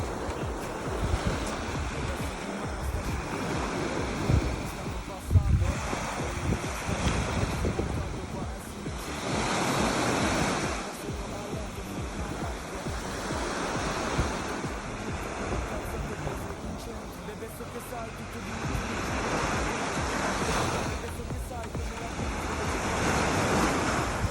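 Sea waves breaking on the shore at Bergeggi in Liguria, with repeated rolling surges of surf over steady wind noise and no talk.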